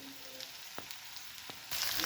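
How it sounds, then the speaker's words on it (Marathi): Green chillies frying in hot oil with onion and garlic for a spicy pitla, a soft steady sizzle with a couple of faint stirring scrapes, rising to a louder, fuller hiss near the end. "मिरची आपल्याला थोडीशी अशी तेलामध्ये परतून घ्यायची आहे"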